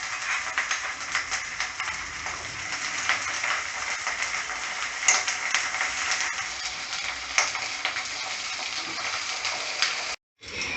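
Garlic ginger paste sizzles and fries steadily in a pan, a dense continuous crackle held close and even throughout, with a brief cut-out near the end.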